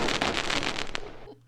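Explosion sound effect in a space-building game: a quiet, crackling burst that rumbles and fizzles for about a second, then cuts off to near silence.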